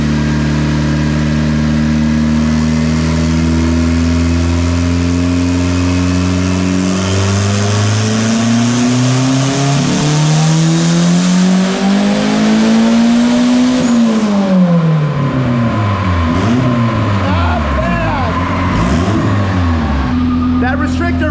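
A Honda fitted with a cheap turbo revs hard on dyno rollers, the engine note climbing steadily through the gears to a peak, then dropping off and blipping up and down again, loud and close with voices talking over it.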